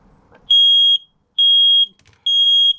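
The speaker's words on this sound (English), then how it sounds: "There's your smoke alarm working all very nicely." A smoke alarm being tested in a Swift Conqueror 530 sounds three loud, piercing high-pitched beeps, each about half a second long with short pauses between, after a brief faint rustle.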